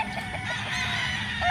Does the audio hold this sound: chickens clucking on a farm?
yes